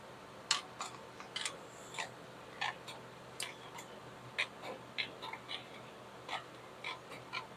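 Scissors make a series of faint, sharp snips, spaced irregularly about once or twice a second, while a glass silver refining cell is being built. No voices are heard.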